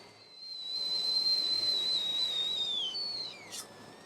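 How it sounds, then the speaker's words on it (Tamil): A steamer cooking kozhukattai lets out a steady high whistle that holds for about three seconds and then slides downward and fades, over a soft hiss of steam, with no talking. "இப்போ நல்லா விசில் சவுண்ட் வந்துருச்சுங்க"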